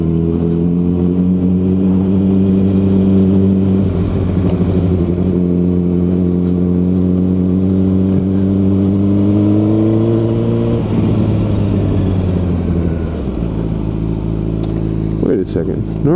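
A 2007 Honda CBR600RR engine pulls hard and loud on a twisty road, with a rising tone, a shift, then a drop in pitch and revs climbing again, with a rider talking over it.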